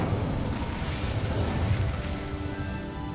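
The Incendio fire spell in Hogwarts Legacy gives a sustained, loud roaring blast with crackling bursts scattered through it, heard alone for about three seconds.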